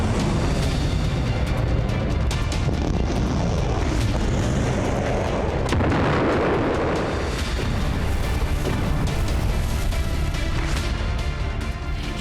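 Distant missile explosions from the Russian attack on Kyiv, Ukraine boom and echo across a wide area, layered over a dense, continuous roar with no voices.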